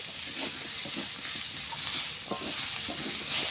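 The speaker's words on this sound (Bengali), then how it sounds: "হলুদ গুঁড়ো দিয়েছি লঙ্কার গুঁড়ো দিয়েছি একটু নাড়াচাড়া করব" Prawns cooking in a pan with turmeric and chilli powder, stirred with scraping strokes over a steady sizzle and hiss at close range, no talk.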